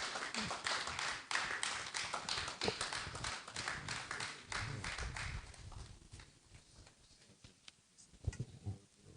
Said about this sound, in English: Let's keep clapping on the President comes to the rostrum, please.